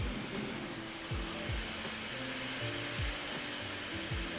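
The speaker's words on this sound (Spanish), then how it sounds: "los ventiladores tienen que aumentar su potencia, generando mayor ruido" Cooling fans of an Asus Vivobook Pro 15 OLED laptop run hard, giving a steady, loud, airy whoosh that holds constant throughout, with faint low hum beneath.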